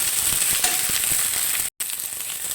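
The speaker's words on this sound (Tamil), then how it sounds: "கொஞ்சம் புளியை இதோடையே போட்டுருங்க புளி நல்லா கொஞ்சம் வதங்கட்டும்" Tamarind, mint and curry leaves sauté in a pan for a mint-coriander thuvaiyal, giving a steady, close crackling sizzle throughout with a brief dropout near the end.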